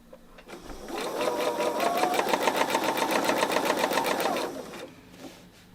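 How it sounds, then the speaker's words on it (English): A sewing machine runs steadily for about four seconds, stitching over fabric to overlap the start of a seam on a raggedy square quilt project; a fast, even mechanical chatter, close and clear, with no talking. "I just go ahead and I stitch over where I started, like about 1 inch."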